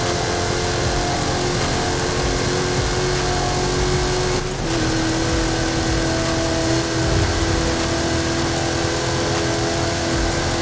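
Car with an 8-litre engine revving under heavy throttle in the racing game Forza Horizon 5, a loud continuous roar with a brief dip mid-way, close and steady without talk.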